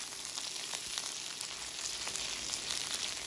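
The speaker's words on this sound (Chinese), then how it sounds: "当鸡肉熟透的时候，把刚才的蒜头放进去，让它在油里跟鸡肉一起翻炒，" Diced chicken and garlic stir-frying in hot oil, a steady close sizzle with faint crackles and occasional stirring scrapes throughout, no voices.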